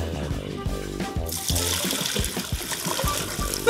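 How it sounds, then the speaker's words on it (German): Fuel draining out of a Subaru's tank into a container, a continuous liquid trickle and splatter running close by for a few seconds. "Hat ein bisschen Sprit drin. Sprit! Das sollten wir vielleicht noch ablassen."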